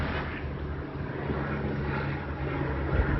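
A steady low droning rotor and engine rumble from a helicopter overhead, continuous and fairly loud, with no voices.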